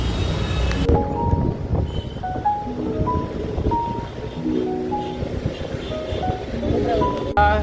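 Low rumble of a train rolling in at a station platform in India, with steady mechanical noise, faint tonal squeals and people talking nearby throughout.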